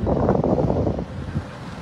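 Strong typhoon wind roars steadily and loudly against the microphone, a dense, buffeting rush that eases only slightly toward the end.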